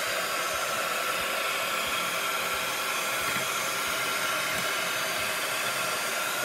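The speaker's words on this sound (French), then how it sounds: "Pistolet à chaleur, amuse-toi." Steady broadband hot-air rush from a heat gun, loud and continuous with no break, like a hair dryer running on high.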